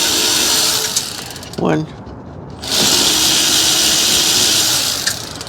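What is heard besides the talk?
electric ratchet loosening 10 millimeter bolts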